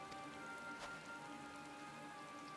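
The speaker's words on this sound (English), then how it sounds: "Oh, it's raining." Rain falling in the video game Final Fantasy XIV, a steady faint hiss of rainfall with soft patter and a light tonal ambient backdrop, no voices.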